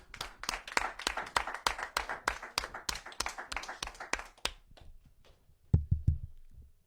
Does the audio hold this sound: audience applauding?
yes